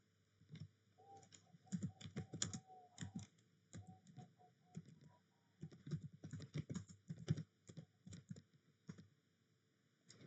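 Bursts of rapid keystrokes clatter on a computer keyboard as a command is typed into a network switch, close and fairly quiet with short pauses between runs.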